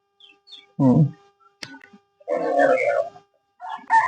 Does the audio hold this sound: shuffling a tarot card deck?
no